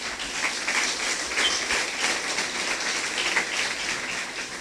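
A church congregation claps together in praise, a dense, steady patter of many hands with no break, fairly close and loud, and no voices rise above it.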